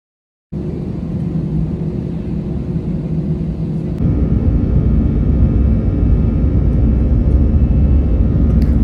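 Airliner taking off from Bangkok airport heard from inside the cabin, a loud steady roar of engines that swells further midway as thrust increases, continuous broadband rumble with no talking.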